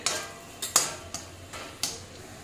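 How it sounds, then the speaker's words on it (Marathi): Dry spices being stirred and sautéed in a pan for Khandeshi shev bhaji: a handful of sharp metallic spoon-on-pan scrapes and clinks at irregular intervals, close and fairly quiet, with no talking. "आता आपण हे घालून घेऊया आणि अर्धा मिनिट परतून घेऊया सुके मसाले."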